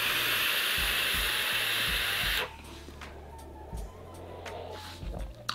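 A long airy draw on a Kaees Aladdin BF rebuildable dripping atomizer with its airflow wide open, a steady close breathy hiss for about two seconds, followed by quieter room noise and soft exhaled breath.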